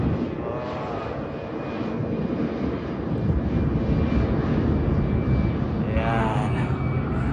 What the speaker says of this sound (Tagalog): Oh, may aeroplano sa taas.